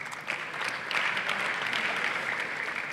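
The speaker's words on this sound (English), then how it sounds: "can we give one final round of applause to Mr. Nate Robinson" Audience applause at a live interview event with former basketball player Nate Robinson, a steady dense wash of clapping filling the whole stretch, loud and close throughout.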